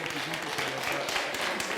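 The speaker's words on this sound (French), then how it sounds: "Merci de faire un tonnerre d'applaudissements" A studio audience at a lively TV entertainment show applauds in a brief, steady burst while a voice talks over the clapping.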